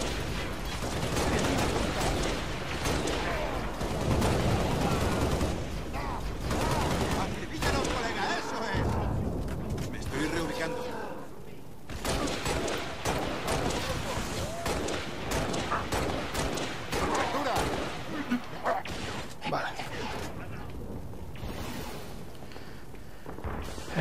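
Rapid bursts of gunfire from the video game Halo: Reach crackle through a busy mix of clanks and mechanical effects, and a player talks over the shooting.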